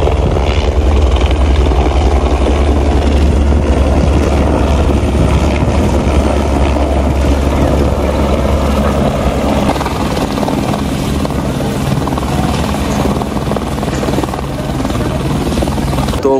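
A helicopter at the Kedarnath helipad thunders close and loud, its rotor thumping and engine whine steady throughout, with faint voices in the background.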